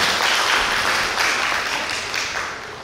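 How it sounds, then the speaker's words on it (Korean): Wedding guests applaud the bride and groom at a wedding hall ceremony, a dense, steady wash of clapping from a sizable crowd that holds level and then tapers slightly toward the end. "응원의 박수를 다시 한번 더 부탁드리겠습니다."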